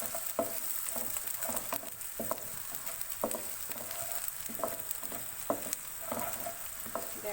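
Chopped garlic sizzles in oil in a pan over a medium flame, added after softened onions for methi aloo, with a steady hiss broken by repeated scraping strokes of a stirring spoon.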